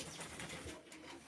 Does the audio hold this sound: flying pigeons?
yes